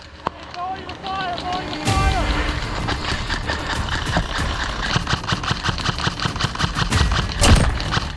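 Airsoft gunfire during a daytime milsim game, a steady stream of rapid crackling shots, some bursts and single pops at close to mid range, running continuously with brief talk at the start.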